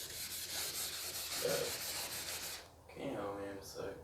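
Finer, higher-grit sandpaper rubs back and forth across paint in steady close strokes for a few seconds, then a brief pause before a softer second pass.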